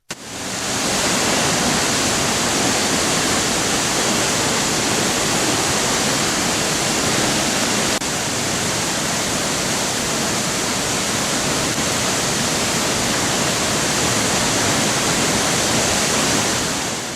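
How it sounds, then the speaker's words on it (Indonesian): A waterfall about 30 meters high, swollen after overnight rain, roars in a dense, steady broadband wash of falling water that stays loud and unbroken from start to finish. "Debit airnya sangat besar dan bergemuruh apalagi malam sebelumnya hujan."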